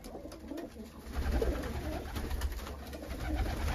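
Akbaş pigeons coo softly in a loft, several low, throaty coos rising and falling, fairly quiet and close, with faint background rustle.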